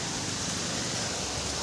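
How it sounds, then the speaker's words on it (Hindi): Heavy rain pours over Jaipur in a dense, loud, unbroken hiss that stays level throughout, with no voices over it. "तो भाई तो मस्त बारिश हो रही है जयपुर के अंदर"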